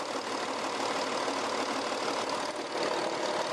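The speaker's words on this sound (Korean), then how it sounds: "엔진 소음 먼저 들려드리면은" A 3.0 V6 car engine idles steadily with an even, smooth hum, close up and moderately quiet, unchanging throughout.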